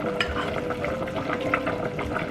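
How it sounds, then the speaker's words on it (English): Japanese curry soup with potatoes gets stirred in a pot, a short, continuous wet swishing and sloshing with light bubbling, moderately loud and close. "Before adding it, mix it again until it gets smooth."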